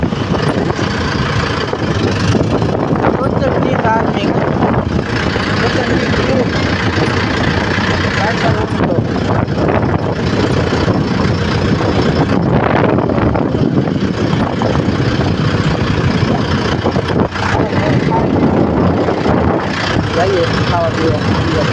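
A modified tractor engine idles with a continuous mid-to-low rumble that holds steady throughout, while people talk over it.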